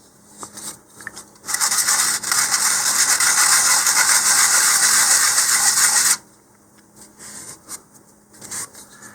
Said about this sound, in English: just clean that up with a little 100 grit sandpaper